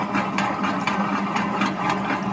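A wet grinder churns urad dal batter for vada, a loud, steady mechanical hum and whir with a faint rhythmic pulse, continuous throughout.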